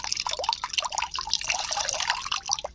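Water squeezed from freshly washed greens in a basket patters and drips in quick, irregular splashes, close and fairly loud, with no talking.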